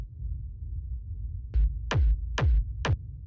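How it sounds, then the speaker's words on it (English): Dark techno rumble with an auto pan effect: a low sustained drone under four sharp kick-like hits that sweep downward, spaced about half a second apart, each bouncing the rumble. "After that, we have this auto pan, which sounds like this."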